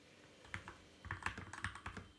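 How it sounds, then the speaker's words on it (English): Quick bursts of keystrokes on a mechanical RGB keyboard, close and crisp, clattering in short uneven runs with brief pauses between them. "I have a mechanical keyboard, by the way. I just bought it today and got it installed"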